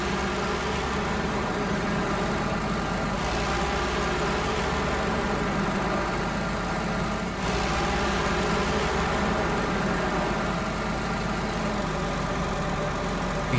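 A big truck engine drones loudly and steadily under full power in the Snowrunner game, a continuous low rumble with no talk over it.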